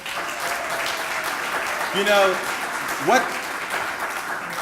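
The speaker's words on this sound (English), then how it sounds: "Give yourselves a round of applause." An audience at a civic recognition ceremony for national service volunteers claps in a sustained, dense wash of applause, with a voice speaking over it near the end.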